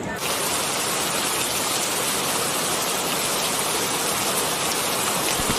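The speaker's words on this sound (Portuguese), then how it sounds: "Olha a chuva, olha a chuva, olha a chuva." Steady broadband rain pours throughout on a beach setting in 1980s Brazil, a continuous dense hiss with no gaps, loud and close.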